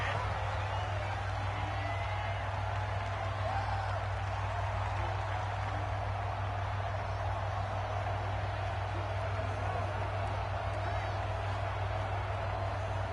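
Steady stadium crowd murmur from a football video game, a constant distant roar with faint cheering swells, running under a play-by-play commentator's voice throughout.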